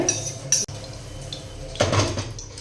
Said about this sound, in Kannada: ಈಗ ಎಣ್ಣೆ ಹಾಕ್ಕೊಳತ್ತೇನೆ, ಇದು ತುಪ್ಪ ಹಾಕ್ಕೊಳತ್ತೇನೆ.